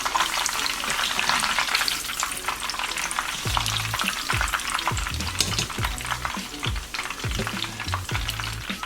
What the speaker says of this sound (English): So I'm just gonna throw them in here and just fry them a little bit.